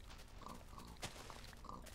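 Pigs oink in the video game Minecraft, a few short snorting grunts popping up at intervals over a steady background of game noise.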